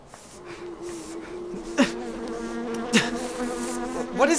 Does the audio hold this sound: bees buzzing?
yes